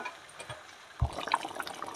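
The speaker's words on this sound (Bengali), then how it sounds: "তো এবার জলটা দিয়ে দিলাম।" Water is poured into a pot of simmering mutton curry, a short splash and gurgle that sets in partway through and stays fairly soft and close.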